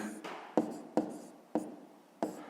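A pen scratches across paper while working a fifth-grade maths exercise, in four or five short, close strokes, each starting with a sharp tap and trailing off, in a quiet room.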